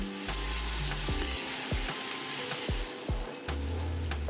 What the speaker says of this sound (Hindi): प्याज और टमाटर को अच्छी तरह डार्क ब्राउन फ्राई करें